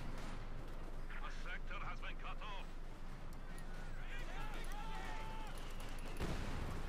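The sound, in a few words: mortar fire in the video game Company of Heroes 2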